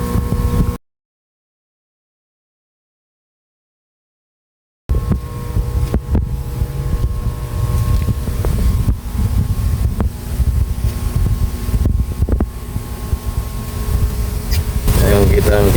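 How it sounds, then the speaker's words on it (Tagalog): An LP100 aerator air pump forcing air through attached hoses for a concrete fish pond gives a steady, loud broadband rushing hiss that runs nearly continuously after a short silent gap. "malakas yung buga ng hangin na lumalabas sa mga matala hose na kinabit po namin"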